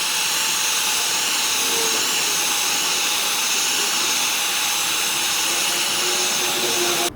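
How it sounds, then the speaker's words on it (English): A heat gun blows hot air in a steady, loud, unbroken roar for the whole stretch, with no voices over it. "I definitely recommend using a heat gun."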